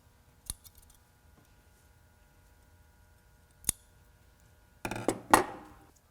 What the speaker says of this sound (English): I'm going to just cut off all the extra threads and then try it on.